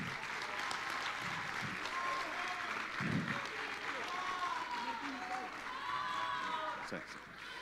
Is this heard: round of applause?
yes